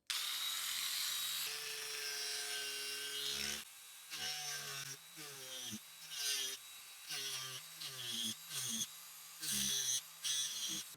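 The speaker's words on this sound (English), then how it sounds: "put the lure in the vise so I can go ahead and start cutting that groove" A groove being cut into a balsa wood fishing lure held in a vise: bursts of close scraping and rubbing strokes, separated by short pauses, start after a sustained opening stretch of tool noise.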